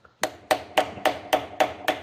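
Seven crisp, regular metallic taps ring out up close as a hammer drives a chisel around a trailer hub's bearing cap, each hit decaying quickly before the next.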